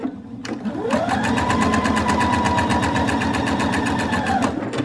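A sewing machine stitches steadily at an even, rapid rhythm, close and loud, starting after a brief click and stopping near the end as the fabric is turned at a corner with the needle down.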